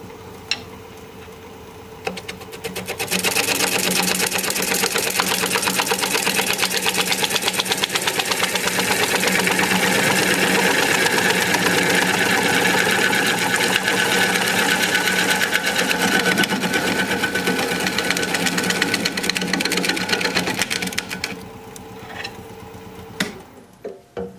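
A wood lathe spins a rough, partly unsound bowl blank while a gouge cuts it, giving a loud, steady whir and scraping hiss that starts after about three seconds, runs unbroken for roughly eighteen seconds, then drops back to a quieter motor hum.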